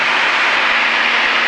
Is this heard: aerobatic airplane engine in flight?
yes